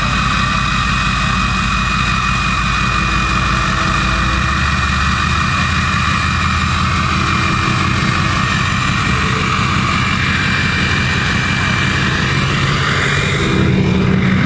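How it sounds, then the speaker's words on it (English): A lowered Ford F-250 diesel truck running at a car show in Chesnee, South Carolina, giving a continuous loud, roaring engine drone with a whistling, aircraft-like tone that holds steady and rises slightly at the end. "It's a diesel truck."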